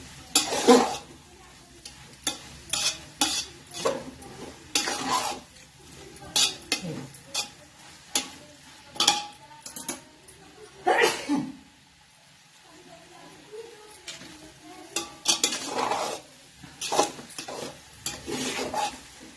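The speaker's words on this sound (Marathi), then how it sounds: "आता हे पूर्ण मिश्रण ताजा हलवून घ्यायचं." Pav bhaji mixture being stirred in a pan, with repeated rhythmic scraping and clanking of a utensil against metal in bursts, some sizzling underneath and a short pause midway.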